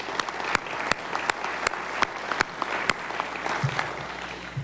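Audience at a port authority presentation applauding, a steady moderate clatter of many hands with a few sharper individual claps standing out.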